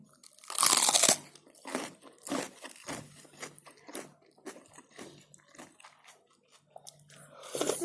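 Instant noodles with cabbage and chili are bitten and chewed up close. One loud crunchy bite opens, followed by a series of wet, crunchy chews in an uneven rhythm, with a louder bite again at the end and no talking.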